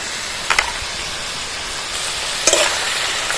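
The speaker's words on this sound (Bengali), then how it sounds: "আলুর সঙ্গে ভালো করে ভেজে নেব" Fried potatoes with nut paste sizzle steadily in a pan, a constant bright hiss broken by two short sharper bursts of spatter or scraping as the mix is stirred.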